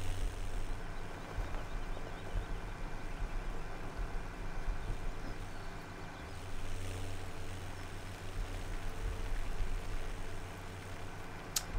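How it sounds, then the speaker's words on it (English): A tractor engine in the video game Farming Simulator 17 runs at a steady low rumbling drone, faintly varying in level but never stopping, with no voices over it. "This is probably one of the cooler sounding tractors, honestly, though."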